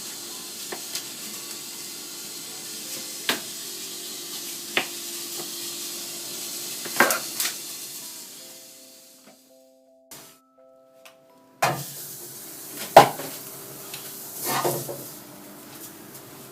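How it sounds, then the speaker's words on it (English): Small quartered tomatoes fry in a little oil in a saucepan for sinigang, making a faint, soft sizzle broken by occasional light clinks and a short quiet gap midway. No one talks. "And then you just put it all in a saucepan with a little oil."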